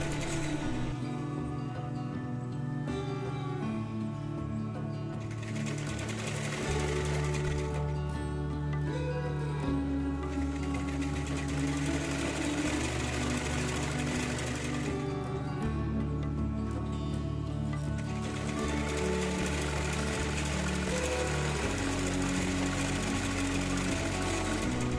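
A half shutter sewing machine stitches a fall onto a saree with a continuous rapid mechanical whir and rhythmic needle clatter. The sound stays steady and close throughout, with slight shifts in speed.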